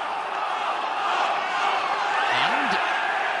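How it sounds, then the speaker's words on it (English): Rugby crowd at Rodney Parade during a Dragons versus Scarlets Magners League match, a loud continuous roar of massed voices swelling steadily, with a single whistle-like rising tone near the end. "The crowd are baying for a yellow card."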